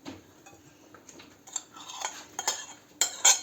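Chopped boiled eggs tipped into a pot of instant noodle salad, giving soft clinks of a utensil against dishware that build to brighter scraping taps near the end, close and fairly quiet with no talk.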